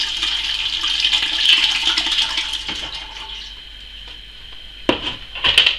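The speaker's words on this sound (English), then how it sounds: "I'm pouring the liquid through a strainer" Liquid sake streams from a bucket through a strainer, a steady close trickling and splashing with a couple of louder gushes and clinks toward the end, no talk.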